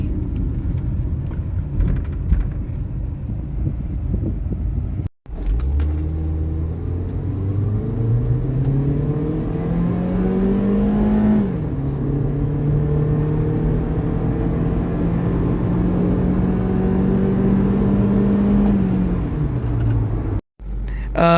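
A 2012 Honda Civic Reborn accelerating hard, its engine note climbing steadily through the revs with brief breaks at the gear changes. The sustained road-and-engine roar stays loud and close, and voices may be faint beneath it.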